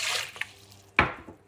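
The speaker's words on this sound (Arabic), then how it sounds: "خلي المي" Water poured into a bowl for Iraqi-style bread dough in a home kitchen, a soft splash and trickle, then one sharp drip or plop, faint and alone.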